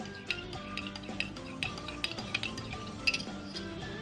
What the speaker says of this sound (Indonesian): Yang terakhir, aduk semua bahan hingga rata.